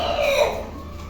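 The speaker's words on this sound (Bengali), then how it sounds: "এক মোরগ মাশাআল্লাহ অনেক সুন্দর।" A Kadaknath rooster lets out a short, nearby crowing call that rises and then trails off into throaty clucking, loud and alone.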